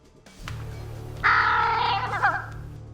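A crow caws in a loud, harsh run of about a second, set against a steady low hum and some background noise.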